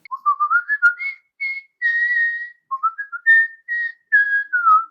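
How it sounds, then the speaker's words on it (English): A person whistles a lilting melody alone, clear, close and bright, in short phrases with brief pauses between them. "I can whistle while I work and nobody gets mad at me."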